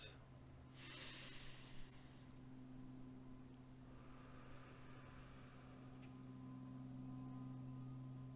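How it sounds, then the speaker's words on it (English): A slow, deep breath, drawn in and then let out, is quiet and close, with a soft airy rush at the start fading into a gentle exhale over a faint steady hum. "Breathe in. Breathe out."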